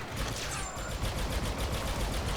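Dense, continuous blaster gunfire from Star Wars Battlefront 2 on the Kamino map, rapid overlapping shots forming a steady loud barrage with no pauses.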